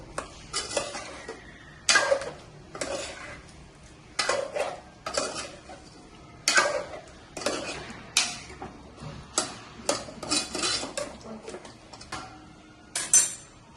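Chicken mixed with ginger-garlic paste and Kashmiri red chili powder in a pan, a run of sharp metallic spoon scrapes and clinks against the pan at an irregular rhythm, close and clear, with no talk.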